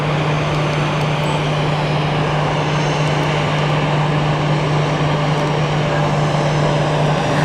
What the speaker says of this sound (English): 777 Swiss is taking off first.